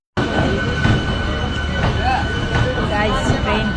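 A train rumbles steadily past a busy railway station platform at Sadar Bazar in Delhi, loud and continuous with rattling wheels and metallic tones, while people's voices murmur in the background.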